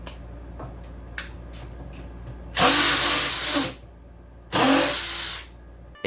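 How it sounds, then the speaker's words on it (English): Two loud bursts of a power drill whirring as it drives screws into wood, each lasting about a second, separated by a quiet pause with faint clicks and ticks in the background. "Let's get drilling."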